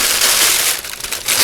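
Crinkly wrapping being pulled off the clear glass parts of a vintage 1973 AMT NASCAR Malibu/Chevelle model kit, a loud, close, rustling crumple that swells and dips over a second and a half.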